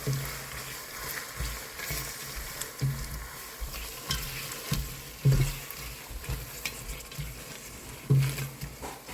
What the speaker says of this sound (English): Let it fry for 3 to 4 minutes.